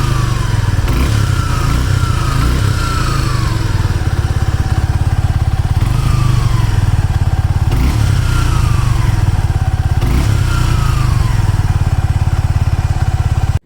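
A Suzuki V-Strom SX 250 adventure motorcycle idles close by with a steady, loud single-cylinder thrum, and its pitch briefly rises and falls with several blips of the throttle.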